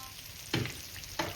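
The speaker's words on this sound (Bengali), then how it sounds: "এবার ফোড়নের সাথে কুমড়োটাকে একটু ভেজে দেবো" Pumpkin fries with tempering spices in a pan, a soft, quiet sizzle broken by two distinct scraping stirs of a spatula.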